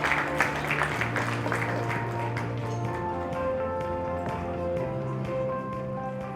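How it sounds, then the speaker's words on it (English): An audience at a business conference panel on empowering women claps after a speaker is introduced, with scattered hand claps over a sustained musical backing that continues as the applause thins. "Can we have a big round of applause, ladies and gentlemen?"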